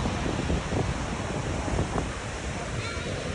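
Water rushes and tumbles below a suspension bridge in Germany's Black Forest, a broad steady roar mixed with wind buffeting the microphone and a voice talking over it.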